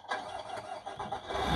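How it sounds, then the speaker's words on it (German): A Tamiya Scania RC model truck's simulated engine sound starts with a short crank, then settles into a mid-pitched idle that swells toward the end, heard close and alone. "Am rechten Knüppel senkrecht kann nun wie gewohnt der Motor gestartet werden."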